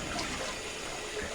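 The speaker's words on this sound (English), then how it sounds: "fill up my sink with hot water, and get ready to go" Hot water runs from a tap into a bathroom sink while it fills before a safety-razor shave, a steady, even rushing that continues throughout with no talking.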